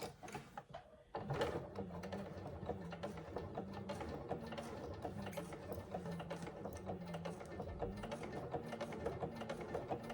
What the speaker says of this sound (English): we're going to just sew that top edge closed